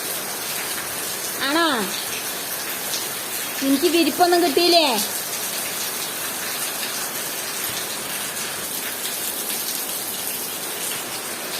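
Steady rain hisses evenly throughout, a constant wash of patter, while a voice speaks briefly near the start and in the middle.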